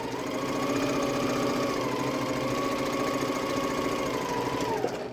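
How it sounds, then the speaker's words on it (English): A sewing machine sewing a quilt block runs steadily at a constant hum and rapid mechanical buzz for several seconds, close and fairly loud, then stops abruptly near the end. "It does help if you turn your sewing machine on."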